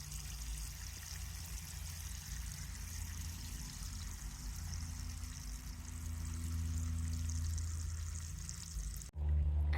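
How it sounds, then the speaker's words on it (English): Water pours and gurgles steadily from a clay barrel for several seconds, a continuous draining rush that swells slightly before cutting off abruptly. "draining out that extra cleaner water"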